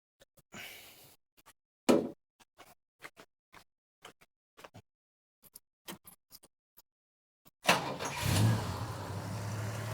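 A classic Valiant car is cranked after a series of clicks and brief scraping noises, then its engine catches and settles into a rough, loud idle at close range.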